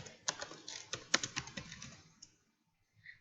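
Fingers type a for loop on a computer keyboard, about two seconds of quick, light, close key clicks in an uneven rhythm that then stop, leaving near silence.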